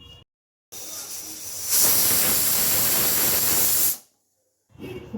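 Pressure cooker whistle venting steam while chicken stew cooks: a loud sustained hiss that builds, peaks for about two seconds, then cuts off sharply, with brief kitchen noise before and after.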